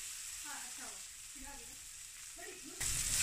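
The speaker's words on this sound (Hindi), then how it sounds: "फिर टमाटर डाल के इसको फ्राई कर लेंगे" Onion, green chili and tomato fry in a pan with a steady sizzle, while faint stirring scrapes come through under it and the frying grows louder near the end.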